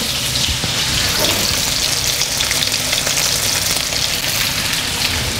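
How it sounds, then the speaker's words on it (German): Loud, steady sizzling of duck breast frying in a hot pan, a dense crackling hiss that holds without pause and no talking. "Gebe ich die Entenbrust dazu, brate kurz mit an."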